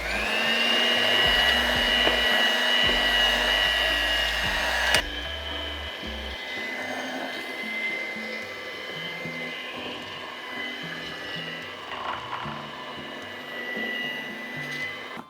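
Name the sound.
electric beater with hook attachment mixing dough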